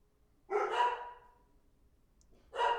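Dogs give two loud, close barks, the first longer and the second a short, sharp one after a pause.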